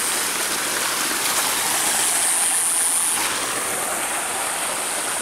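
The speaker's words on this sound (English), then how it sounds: "Got a waterfall going this way and you got a waterfall going that way." A waterfall pours into a stream at the top of a falls between two lakes, a loud, steady broadband rush of water that stays constant throughout with no voices.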